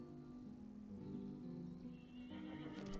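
A horse neighs in the war strategy game Master of Command, a faint, drawn-out whinny that rises and falls over steady low game ambience, with no talking.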